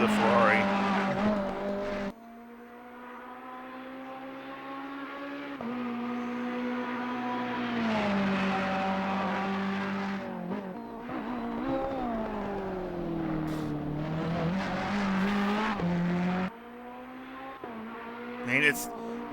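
A Ferrari GT race car at Laguna Seca in Assetto Corsa Competizione, engine screaming through rising gears with abrupt drops at each shift and brief tire squeal in corners, loud and close, while someone talks over it.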